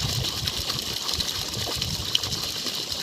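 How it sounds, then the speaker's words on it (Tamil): Water gushing under pressure from a 1700W BLDC pump on a 700-foot, 1.5-inch borewell line, a steady hissing rush with a faint motor hum underneath, continuous and even throughout. "தண்ணி நல்ல ப்ரெஷரில் வந்துக்கிட்டு இருக்கு"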